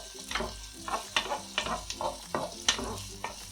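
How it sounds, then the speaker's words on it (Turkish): Large red kapya and green charleston peppers sauté in a pan, a soft sizzle broken by a series of scraping stirs at an uneven rhythm, close and fairly quiet with no voices. "1 adet büyük boy kırmızı kapya biber, 2 adet büyük boyda yeşil charleston biberimi içerisine hemen alıyorum ve biberlerimi de kavurmaya devam ediyorum"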